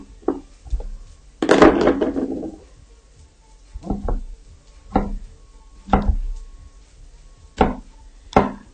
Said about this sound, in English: I will be chopping up my mushrooms